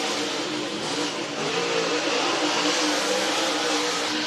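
Race cars at Whynot Motorsports Park accelerate together under green flag, a dense, distant engine roar that swells steadily, with no speech over it.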